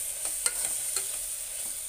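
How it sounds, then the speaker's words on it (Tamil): A spoon stirs a paneer biryani mixture with mint and coriander in a hot pan, a few soft scrapes over a steady sizzling hiss, close and with no voices. "இதையும் நல்லா மிக்ஸ் பண்ணிக்கலாம்"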